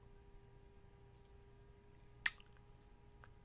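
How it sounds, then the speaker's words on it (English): A single sharp mouse click on a computer during a screenshare demo, one brief tick standing alone over a quiet background hum. "I click on this."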